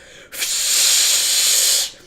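A person vocally imitates a firework fuse, producing one steady, bright hiss that starts abruptly, holds for about a second and a half, then cuts off, heard alone and fairly loud.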